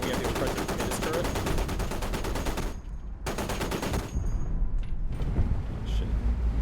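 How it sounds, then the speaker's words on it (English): Automatic cannon and machine-gun fire aimed at a tank turret in a tank combat video game, heard as rapid loud repeating shots in dense bursts with brief gaps, over a constant engine rumble. "We're going to start just firing on this turret."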